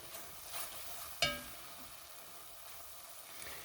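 A roux of sausage fat and gravy mix bubbling in a pot over lowered heat, a soft continuous sizzle and crackle with one sharp clink early on, otherwise steady and quiet.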